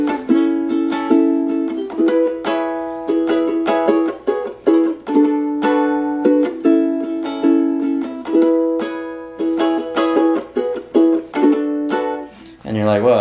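A ukulele strums the chord pattern of a pop song in a steady, driving rhythm, loud and close, with no talking over it.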